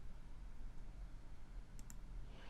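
Two quick, faint mouse clicks land on a button in inheritance tax calculation software over a steady background hiss.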